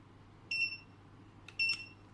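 Two short, high electronic beeps sound about a second apart, clear and close over a faint low hum, from a Wi-Fi/RF433 wireless wall touch switch pairing with a remote.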